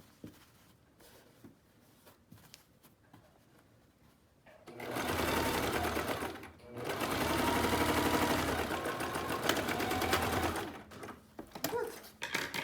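A sewing machine stitches through pinned face mask fabric in two loud, steady bursts, broken by a short pause, with quiet handling before and after.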